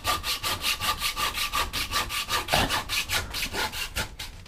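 Steady back-and-forth strokes of an antique hand saw with new teeth, made in England, cutting a wooden spoon blank; about twenty even, rasping strokes in a regular rhythm, close and loud, with no talking.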